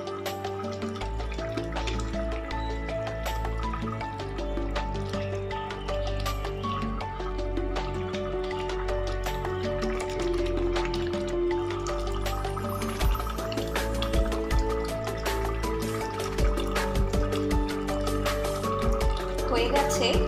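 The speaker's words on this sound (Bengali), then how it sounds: "এবার আমি দিচ্ছি সেদ্ধ করা পেঁপে।" Boiled papaya going into a simmering Bengali chicken curry with potatoes, a continuous bubbling, liquid simmer with small clinks and splashes and a voice speaking over it.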